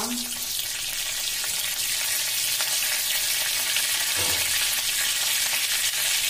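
Bay leaf dropped into hot mustard oil in a home kitchen pan, giving a steady bright sizzle and crackle that holds at an even level, with a faint metallic clink partway through and no voices.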